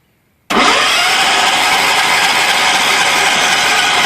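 A John Deere 210 lawn tractor engine, freshly carb-rebuilt and cold after a week of sitting, catches abruptly and then runs at a loud, steady roar close by.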